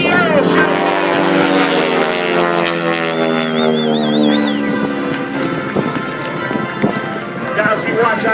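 Propeller planes of the Aeroshell aerobatic team roar past at an air show, their engine note sweeping down as they pass, with an announcer's amplified voice and crowd noise underneath.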